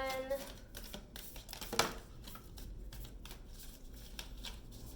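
Stiff tarot cards are shuffled by hand, producing a quick riffling burst followed by soft, repeated slapping and sliding of the deck, close and fairly quiet, with brief speech at the start.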